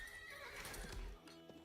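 Horses in the Age of Empires IV strategy game give a short neigh with clip-clopping hooves, faint and brief amid soft game ambience, with no talk.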